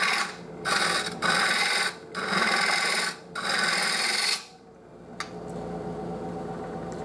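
A bowl gouge takes light cuts from very dry walnut spinning on a lathe, giving several loud rasping bursts with short pauses, then a quieter steady whir.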